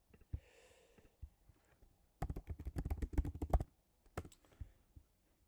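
Typing on a computer keyboard at a desk, a dense burst of quick clacking keystrokes in the middle with scattered single taps before and after, close and clear with no talking.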